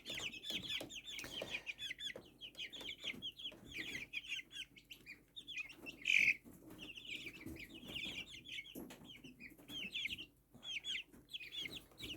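Young chickens cheep and cluck continuously in high, chattering bursts, fairly close, with a louder squawk partway through and no talking.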